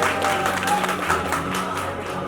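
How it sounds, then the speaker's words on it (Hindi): Loud applause from the audience at a journalism awards ceremony, a dense continuous wash of clapping from one section of the crowd. "जोरदार तालियां एक तरफ से आ रही हैं।"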